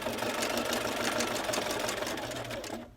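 A sewing machine stitches a lace hem in a fast, even, continuous whir with rapid needle chatter, loud and close, running alone before stopping abruptly.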